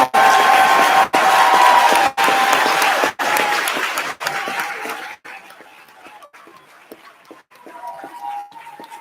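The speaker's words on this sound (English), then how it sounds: "Can we do one last round of applause for all of our people?" Sustained applause from a large audience at a police promotional ceremony, loud and dense at first, then thinning into scattered clapping that swells slightly again near the end.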